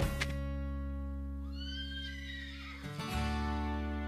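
The horse Diablo from the Horseland cartoon lets out a long, loud whinny over a steady sustained musical backing, followed by a brief break and a rustling return.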